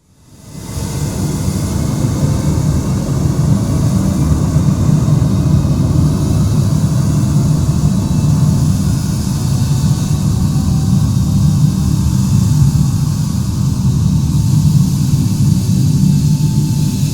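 Engines of a Japan Airlines Boeing 747 roar as the jet accelerates for takeoff, a loud, steady, rumbling drone swelling in quickly and holding without a break.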